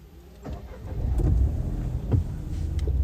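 A 2021 Opel Mokka is started at a dealership, a short starter crank followed by the engine catching and settling into a low, moderate running hum, heard alone without talk.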